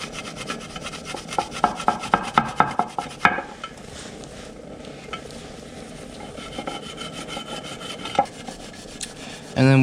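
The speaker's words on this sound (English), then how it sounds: "you should definitely use some Scotch-Brite, some green Scotch-Brite" A green Scotch-Brite pad scrubbing an engine timing cover to remove old gasket residue: close, rhythmic rasping strokes at first, then steadier rubbing with scattered clicks and a louder scuff at the end.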